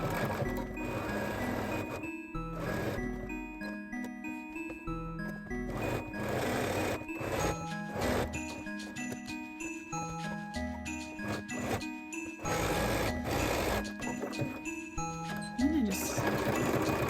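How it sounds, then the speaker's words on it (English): A sewing machine runs a zigzag stitch across hoodie fabric, its needle chattering steadily and close up in an even mechanical rhythm that pauses briefly a few times, with faint chimes and light clicks around it. "it's going to just catch that fabric in the zigzag stitch"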